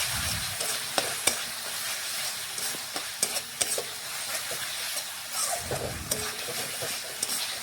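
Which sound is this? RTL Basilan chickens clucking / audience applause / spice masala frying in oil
spice masala frying in oil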